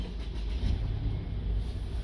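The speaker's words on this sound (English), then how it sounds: "Car starts up." A 2014 Mercedes E250 cabriolet engine starts and settles into a low, steady rumble with a slight rev near the middle, heard close up with no talk over it.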